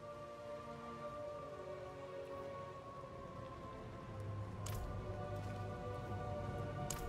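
Steady rain in the Diablo IV video game, a dense even hiss that swells slightly louder midway, with a couple of brief crackling bursts and no voices.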